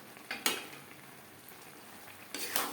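Rice, mung dal and vegetables are stirred in a pan for a vegetarian khichuri. The stirring is quiet, with a faint sizzle, and two louder scraping strokes of a spoon stand out near the start and end.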